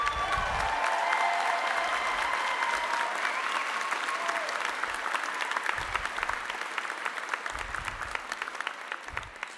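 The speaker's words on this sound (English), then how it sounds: "Round of applause." Audience applause fills a graduation commencement ceremony for a university school of social work, a loud sustained wash of many hands clapping that thins slightly toward the end, with scattered low thumps and a few cheers mixed in.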